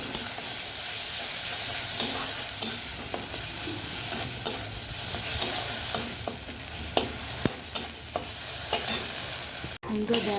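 Chili paste, turmeric and salt stir-fried in a hot pan as a spice paste, with a steady loud sizzle and repeated sharp scrapes of a spatula against the metal, no voices.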